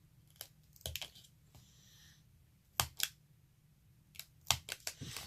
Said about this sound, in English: all I'm going to do is go back with my scissors, and I am going to cut little snips